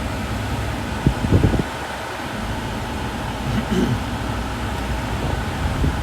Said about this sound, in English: Aircon works, it's nice and cold.